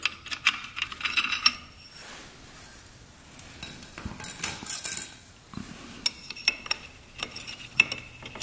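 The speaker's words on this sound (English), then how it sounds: "All right, clutch plates going on." Metal clutch plates, including friction plates, clink and rattle as they are handled and fitted during reassembly of a street-legal dirt bike, with irregular close metallic taps and scrapes.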